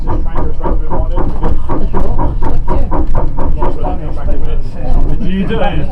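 A railmotor train rumbles steadily along the track with rhythmic clatter, loud and close, while people talk over it.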